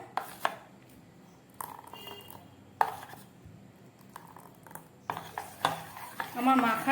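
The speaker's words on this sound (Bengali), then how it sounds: "খুব ভালোভাবে মেখে নিলাম" Dosa batter being mixed by hand in a bowl, heard as irregular wet squelches and soft slaps in short bursts, fairly close, with kitchen clatter between them.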